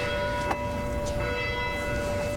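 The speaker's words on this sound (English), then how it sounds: "Not letting the church bells interrupt her here." Church bells ring from a distance across a golf course during the 2013 KPMG Women's PGA Championship, steady tones lingering under a quiet outdoor background.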